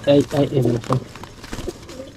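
Sapchila pigeons coo in soft repeated bursts nearby, the throaty calls overlapping with quieter rustling afterward.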